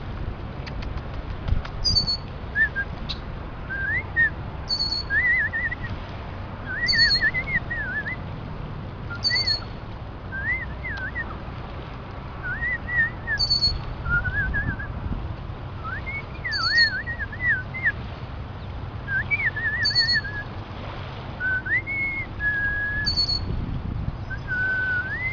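A person whistles a repeated bird-call imitation, short rising whistled phrases roughly every couple of seconds, near a red-winged blackbird nest, with high chirps from the birds above and steady outdoor background noise.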